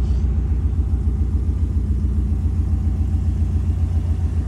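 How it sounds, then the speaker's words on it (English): A 2018 Subaru WRX STI with equal-length headers idling, giving a steady, loud low rumbling exhaust burble with an even pulsing beat and no talking. "Even though they're advertised equal length headers, it still has that nice burble at idle,"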